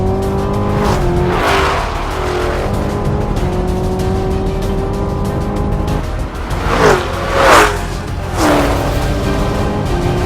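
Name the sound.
Mustang Shelby GT500 vs Camaro ZL1 drag race launch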